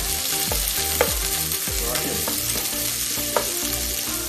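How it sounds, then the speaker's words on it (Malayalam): Onions frying in hot oil in a home kitchen pan, stirred while cooking a chicken 65 dish: a steady, dense sizzle with occasional scraping stir strokes, close and continuous. "അപ്പോൾ നമ്മൾ ഓയിൽ വെച്ചിട്ടുണ്ട്. ഇനി ഫസ്റ്റ് നമുക്ക് ഓണിയൻ ഇടാം. നല്ലപോലെ ഒന്ന് മിക്സ് ചെയ്യാം."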